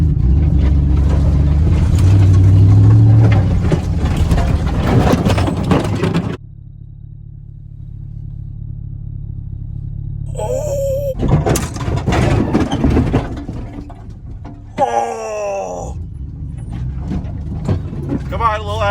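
A pickup truck in 4x4 with an axe canard upgrade and welded grill guard drives through trees, its engine droning steadily and surging in bursts while someone shouts and whoops over it.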